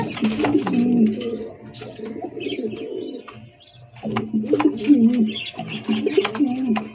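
Lahori pigeons coo nearby in repeated low, throaty rolling phrases, broken by a short pause, with faint chirps and background sounds around them.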